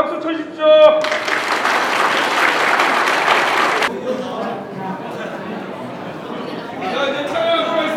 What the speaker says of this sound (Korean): 자, 이번에 박수 쳐주십시오.